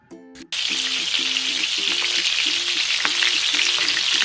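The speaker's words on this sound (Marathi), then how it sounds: "परत छान असं परतून घ्यायचं" Fish curry masala hits a hot pan with a sudden loud sizzle, then keeps frying in a dense, steady hiss, close up, with faint stirring underneath and no voices.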